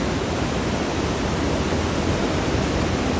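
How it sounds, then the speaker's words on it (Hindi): Fast-flowing river in Manali rushing with a dense, constant roar of broadband noise, steady and loud with no pauses and no voices over it. "नदी की आवाज़ सुनो, अगर उठा पा रहा हो फ़ोन।"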